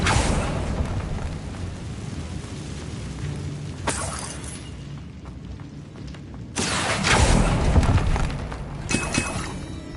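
An Incendio fire spell cast in Hogwarts Legacy, giving sudden bright whooshing bursts of flame that flare up and fade over a low rumbling background, with one larger roaring blast near the end.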